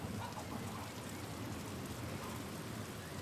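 Steady rain pours down in the Pentiment video game, a dense, even hiss of drops that holds at a constant level throughout with no voices over it.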